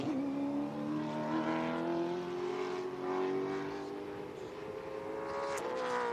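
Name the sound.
stock car racing around Cordele Speedway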